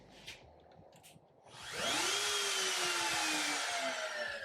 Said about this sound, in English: got my CNC set up, the router turns on.